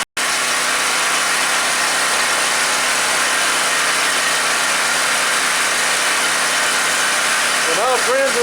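A WEN 4050 generator's engine runs steadily at a constant, loud drone from start to finish, alone with no voices; a brief rising whine cuts in near the end.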